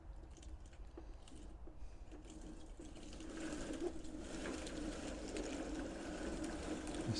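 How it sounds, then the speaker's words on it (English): A 1/6 scale Armortek Hetzer Jagdpanzer 38 model tank runs with a binding drive sprocket, giving a faint, steady whirring drone with rhythmic grinding that grows slightly louder partway through, close by and without talk. "I can hear that sprocket binding."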